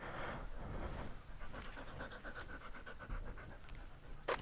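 A big puppy fresh from a dog park pants rapidly and rhythmically up close, a breathy steady huffing at fairly low volume, with a brief sharp noise near the end.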